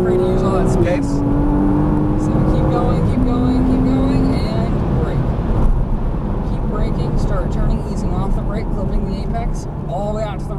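A Porsche Cayman S engine pulls hard under full throttle on a race track, a loud steady drone with rising tonal sweeps, heard from inside the car beneath a spoken voice.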